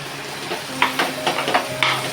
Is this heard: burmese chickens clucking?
no